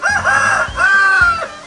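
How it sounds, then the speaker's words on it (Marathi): A rooster crows loudly and close by in two long, wavering calls with a short break between them. It is a bird that crows at dawn, and no voices are heard. "कोंबडा सकाळी 4:30 वरतून बांग देतो"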